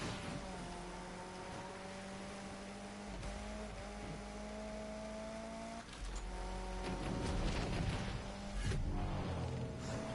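A car engine in the Need for Speed Unbound racing game, droning steadily at high revs while driving, then surging louder as it accelerates, with no talk.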